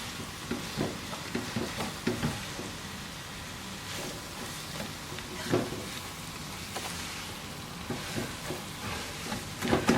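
Onions frying in oil over high heat for a beef dish, a soft, even crackle and sizzle like light rain, punctuated by scattered stirring knocks and scrapes.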